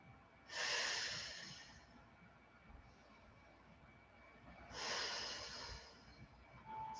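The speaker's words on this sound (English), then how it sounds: "2 more belly breaths there." Two slow, deep belly breaths drawn in and let out through the nose during a lower-back stretch, soft and close, each a long airy whoosh separated by several seconds of quiet.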